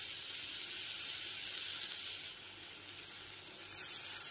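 Ginger paste sizzling in hot oil left from frying pointed gourd, a dense steady hiss close up that eases slightly partway through, with no voices.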